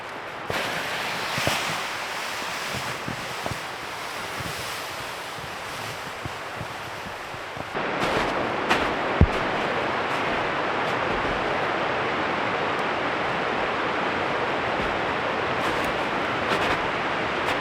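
A snowy winter mountain creek runs in a steady, broad rushing wash, close and continuous, with occasional bumps and a brief louder surge partway through.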